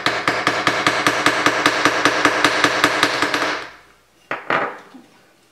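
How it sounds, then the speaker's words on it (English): The ball end of an embossing hammer strikes a metal block to form an oval divot for hoop earrings in jewelry making. About seventeen loud, sharp, close blows land in a steady rhythm, then stop, and two more isolated taps follow. "I'm going to use the ball end of this embossing hammer to create kind of an oval type of divot into this block."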